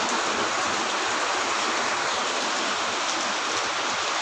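Heavy rain pours down in Mayiladuthurai as a dense, steady, loud roar of water that does not let up, with no voices over it.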